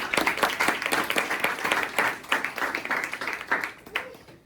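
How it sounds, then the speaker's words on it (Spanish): Students in a university tax class applauding classmates, a burst of many hands clapping in quick irregular rhythm, moderately loud and close, tapering off toward the end. "Un aplauso para ellos, por favor."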